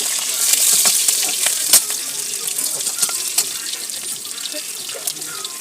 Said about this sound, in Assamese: জ্বলা পিয়াজ ভাজি ললো